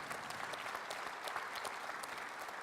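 Audience at the 67th FNSEA congress applauding steadily, a dense patter of many hands clapping at a moderate distance with no break.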